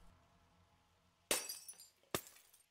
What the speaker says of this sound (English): smashing a window is nice and quick